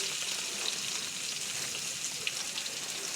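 Chopped onion, green chili and garlic frying in hot oil for a tilapia and papaya curry, giving a steady, dense sizzle that stays even and close throughout, with no voices.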